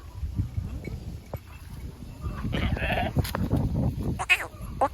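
Lambs and sheep bleat at a crowded livestock market in Kerur, several wavering calls close by over a busy rumble of movement and murmuring voices, with someone talking.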